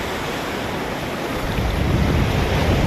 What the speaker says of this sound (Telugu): ఇదేనండి మన చీరాల బీచ్ అండి